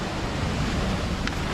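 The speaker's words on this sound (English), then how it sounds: "the waves are pretty rough right now" Rough surf on an Antigua beach near Fort James, a steady broadband wash of churning waves with constant wind, loud and continuous with no distinct breaks.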